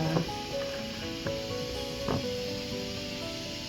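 Steam hisses steadily from a pressure cooker cooking oyster rice, with a few small clicks and rattles over the constant sound.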